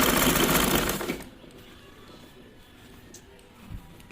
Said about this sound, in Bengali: চারিদিকটা এইভাবে আমি ফোল্ড করতে করতে সেলাই করতে যাব